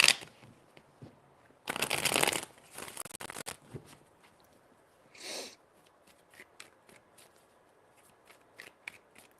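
Tarot cards shuffled by hand: a loud dense riffle burst followed by a few shorter rustling passes, then scattered soft card flicks and taps in a quiet room.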